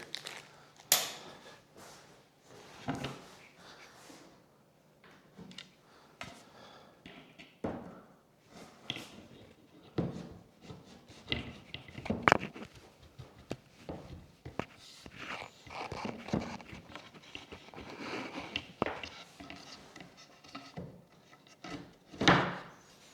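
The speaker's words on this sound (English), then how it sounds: "So we're going to put the dowel pins in." Wooden dowel pins are pushed and tapped into TV cabinet panels during assembly, giving scattered knocks, clunks and scrapes at irregular intervals with quiet pauses between, fairly close and moderately soft.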